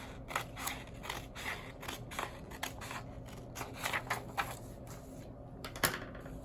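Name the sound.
scissors cutting a paper pattern strip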